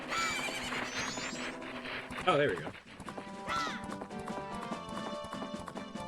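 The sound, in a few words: horse neighing and hooves in video game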